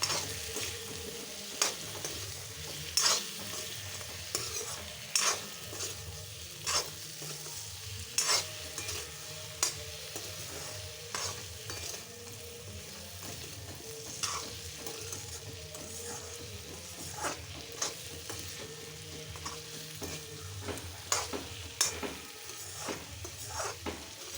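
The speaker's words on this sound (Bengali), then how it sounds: "এবার ভালো করে নাড়াচাড়া করে নিচ্ছি মশলাটা কষাতে হবে ভালো করে" Spice paste with turmeric for an egg curry fries in oil while a spoon stirs it, repeated scraping clinks against the pan over a soft steady sizzle, close up and without voices.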